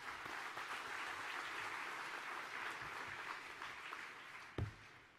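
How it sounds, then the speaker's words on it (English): Audience applause at a rodeo cowboy hall of fame ceremony, steady broadband clapping from a crowd filling the room for about five seconds before tapering off, with a brief thump near the end. "let's give them a nice round of applause"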